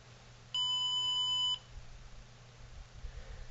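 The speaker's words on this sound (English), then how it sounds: "it's going to go through a fancy little startup sequence, which is basically blinking lights and making fun noise" An Arduino rocket launcher sounds a single steady electronic beep lasting about a second during its startup sequence, clear and close over faint background hiss.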